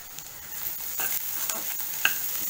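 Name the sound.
mushrooms sautéing in a pan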